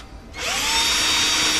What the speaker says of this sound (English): drill some holes in the bottom of this